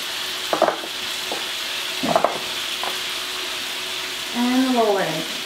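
Food fries in a pan over low to medium heat, a soft steady sizzle beneath a few clinks and stirring scrapes, with a brief voice-like tonal sound near the end.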